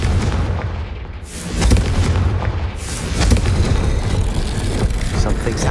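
Bombarda and Confringo spell explosions in Hogwarts Legacy, heavy booming blasts that hit in quick succession over a rumbling battle mix.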